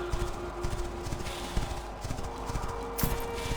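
Horse hooves clip-clop at a steady walking rhythm, close and fairly quiet, as a rider travels across open terrain in the video game The Quinfall, with no speech over them.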